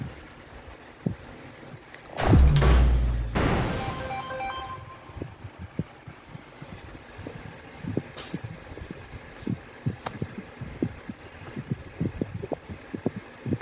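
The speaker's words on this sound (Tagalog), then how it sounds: "I can still hear the heartbeat." A video game plays a heartbeat sound, with low soft thumps repeating at a steady rhythm over a faint hum, briefly masked by a loud burst early on.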